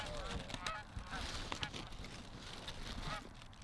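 Geese honking repeatedly nearby and farther off during a field goose hunt in Ohio, a noisy overlapping chorus of calls with a low rumble of wind or movement underneath.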